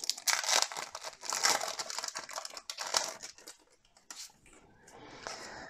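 Foil WWE trading card packs being torn open and crumpled, a dense run of close crinkling and ripping with a short quieter stretch near the end, no talking.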